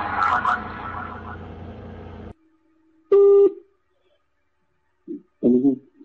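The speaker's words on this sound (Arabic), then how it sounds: "معذرة على الإزعاج، ده كان تليفون نيافة الأنبا تودرس" A single ringback tone pulse on a recorded phone call to a bishop's line, sounding briefly between stretches of speech, with voices before and after it.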